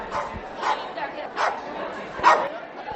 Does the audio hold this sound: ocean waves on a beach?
no